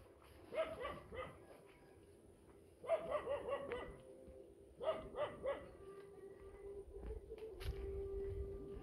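Several dogs bark in short clustered volleys at a family's home, at moderate distance, with pauses between bursts and a steady hum of background noise.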